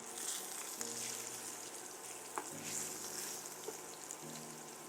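Salmon fillets searing in a pan right after being flipped, giving a steady, moderate sizzle and frying hiss with a few faint clicks, heard alone without talk.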